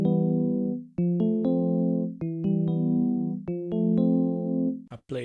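Piano melody played on the Analog Lab VST with a computer keyboard, a repeating chordal phrase in a steady rhythm, loud and clean, ending with a brief burst of voice.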